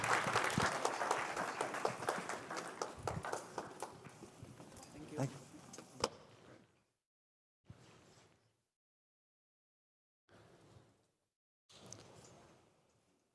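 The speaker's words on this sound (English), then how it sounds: "give them a round of applause, people." A conference audience at a Bogotá tech event applauds the panel speakers: loud, dense clapping that fades over several seconds, then quiet gaps broken by short faint bursts of noise.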